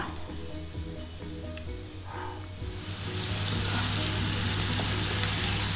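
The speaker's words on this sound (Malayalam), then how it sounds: "നല്ലോണം വെളിച്ചെണ്ണ നല്ലോണം ചൂടാക്കി കഴിഞ്ഞാൽ ഈ ചെമ്മീൻ പൊരിച്ചെടുക്കുക" Prawns frying in hot coconut oil, a steady sizzle and hiss that swells louder partway through and then holds, with faint stirring underneath.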